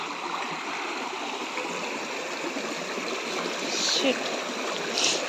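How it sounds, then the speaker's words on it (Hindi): Stream water flows steadily over rocks at Mahabaleshwar, a continuous broadband rushing and trickling close by, with a few faint brief splashes toward the end. "मुझे ऐसी जगह बहुत पसंद है जहाँ पर बहता हुआ पानी हो और इस तरह से पत्थर हो बैठने के लिए"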